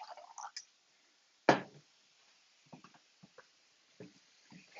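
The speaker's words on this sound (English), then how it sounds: "I want to slosh this a little bit to get the rest of" Leftover water is sloshed around inside an emptied can of beans, giving a sharp splash followed by scattered small wet drips and clicks, close and fairly quiet.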